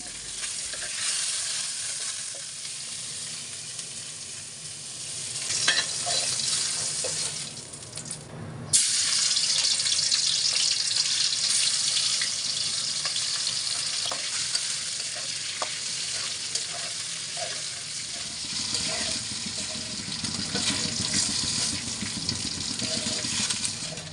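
Snakehead fish frying in an oiled wok, a loud, steady sizzle that runs unbroken throughout, with a brief dip partway and occasional faint clinks of utensils, and no talking.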